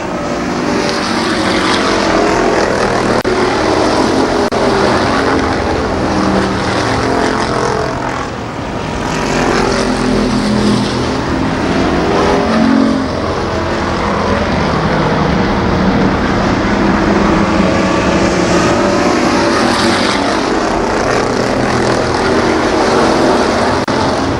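ARCA Pro 4 race cars lap Columbus Motor Speedway, engines roaring continuously and loud, swelling and fading as cars pass in traffic, with no voices over them.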